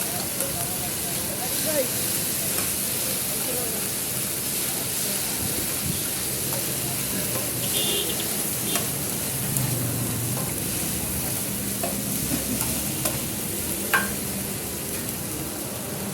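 Saffron kebabs fry in hot oil with a steady, fairly loud broadband sizzle and crackle that runs throughout, with a few brief clinks on top.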